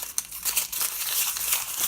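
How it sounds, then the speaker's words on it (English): Stiff brown packing paper is crumpled by hand, giving steady, close, crisp crinkling and rustling that lasts the whole time, with no voices. "take a piece of brown paper. It's quite hard, just packing paper. And I'm going to crumple it a bit."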